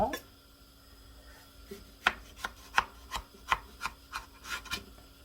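A knife slices through homemade Japanese-style pickled radish (danmuji) on a cutting board, giving a series of crisp, evenly spaced chopping thuds that grow steadier after a quiet start, close and alone.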